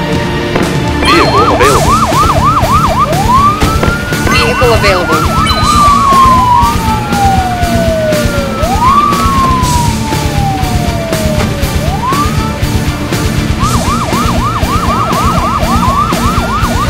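Wailing and yelping emergency vehicle siren, rising and falling in long sweeps with fast yelp bursts at the start and end, loud and continuous over a steady background rumble.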